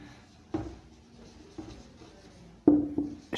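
Chalk or marker writing on a classroom board during an English grammar lesson on direct and indirect speech, scratchy strokes in short bursts with a few sharper taps, close and moderately loud.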